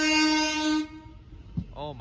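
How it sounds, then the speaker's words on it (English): A not-in-service Southern train sounds a loud, sustained horn toot while passing through the station, cutting off abruptly, followed by a person speaking nearby. "And I got a toot from this train right here."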